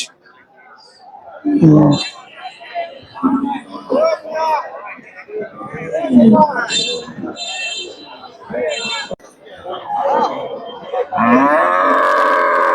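Cattle at a traditional livestock market low repeatedly in loud, close moos amid a busy crowd, with people talking and bargaining throughout and a long drawn-out moo at the end.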